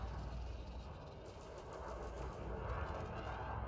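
Ship weapons fire in Elite: Dangerous, a steady rumbling stream of rapid gunfire over a low engine drone, moderately loud and continuous, with no voices.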